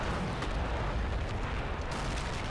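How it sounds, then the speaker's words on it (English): In the Cold War combat game, an artillery barrage keeps up a dense, steady rumble with no letup, made of overlapping booms and blasts that blend into one continuous roar. "sides have called in preparatory barrages"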